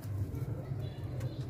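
Pigeons coo softly in a low, continuous murmur close by on a rooftop, with a faint chirp near the end.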